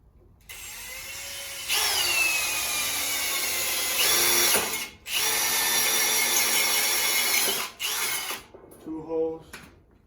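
A power drill boring a second hole in wood for a table/shoe rack, a loud close whine that starts after a quiet moment, runs in two long stretches with a short break, then ends in softer scraping and knocks.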